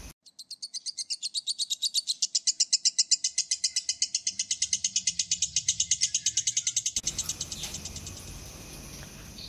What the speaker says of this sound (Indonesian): kicauan ngekek lovebird selalu memikat untuk diikutkan lomba.